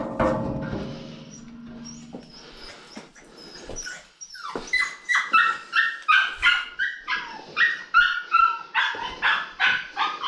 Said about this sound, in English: Is this why you've been barking and yelping?